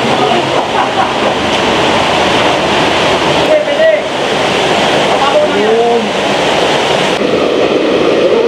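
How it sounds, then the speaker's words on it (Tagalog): A waterfall roars steadily inside Cathedral Cave in Cavinti, Laguna, a loud continuous rushing wash that fills the whole clip, with brief voices and shouts over it. "ayun yung waterfalls"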